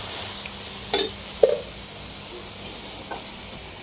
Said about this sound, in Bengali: এদিকে লাল শাক রান্না করতেছে আর কি